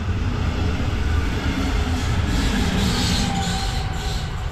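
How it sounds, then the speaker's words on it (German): A train rolls past close by near a WWII underground relocation site, a loud, steady rumble of wheels with a rising metallic squeal partway through, heard alone without talk. "an uns ist gerade, wie ihr unschwer erkannt habt, denke ich, ein Zug vorbeigefahren"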